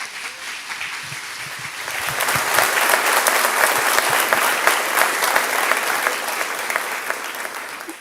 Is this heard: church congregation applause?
yes